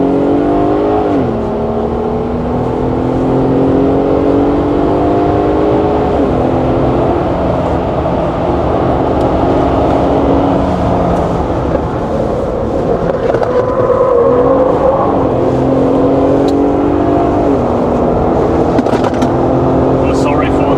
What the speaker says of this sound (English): 而家我哋就去試車。